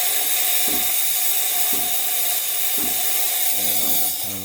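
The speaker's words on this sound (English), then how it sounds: "now that we're up to power, I'm going to put the steam on" Steam wand on a Shardor Espresso 20 espresso machine hissing steadily at full power while frothing milk, a loud continuous hiss broken by a few low thumps and a gurgle near the end.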